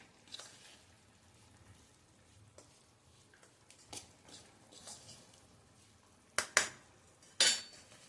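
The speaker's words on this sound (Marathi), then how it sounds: "चमच्याने व्यवस्थित मिक्स करून घ्या." A spoon mixes hot oil and spices into flour in a metal bowl, giving soft scraping and stirring under a faint sizzle. Near the end come several sharp, loud clinks of the spoon against the bowl. No voices are heard.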